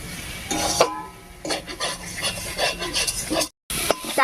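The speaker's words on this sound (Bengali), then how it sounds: "চালটা আমি পরে দিয়ে মশলার সঙ্গে কষাতে কষাতে ভেজে নিচ্ছি" Rice is stirred and fried with spices in a pan for a Bengali potol dish, a spoon scraping and rubbing the pan in uneven strokes over a soft sizzle, with one brief gap.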